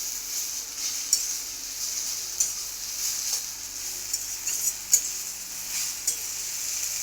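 Jute greens frying in a home kitchen pan give a steady, moderate sizzle, broken by occasional sharp taps of a utensil stirring against the metal, with no talking.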